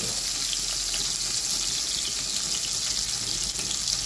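Onion and garlic frying in a pan for Igorot pakbet, a steady bright hiss of sizzling oil running continuously at moderate loudness with no talk.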